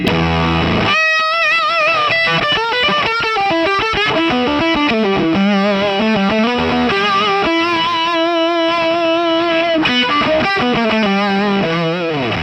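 A heavily distorted electric guitar plays a riff through a fuzz effect, thick and buzzy, loud and continuous with no voices.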